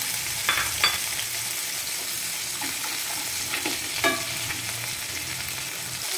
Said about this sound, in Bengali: এখন মাছটা ভেজে নিই। মাছ দিয়ে দিচ্ছি, বড়িও দিয়ে দিই সাথে।